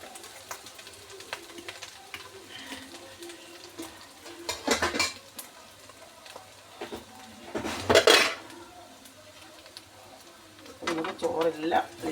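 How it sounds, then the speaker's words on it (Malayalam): Cooked rice is tipped and scraped into a metal pot, with clattering knocks of a spoon against the vessel in a few loud bursts amid quieter rustling. "ചോറെല്ലാം ഇതിലേക്ക് തട്ടിയിടാം."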